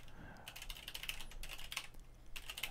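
Rapid, uneven keystrokes clatter on a computer keyboard while someone plays ZType, a touch-typing video game. The clicks come in quick bursts close to the microphone, faint but continuous and with no talk.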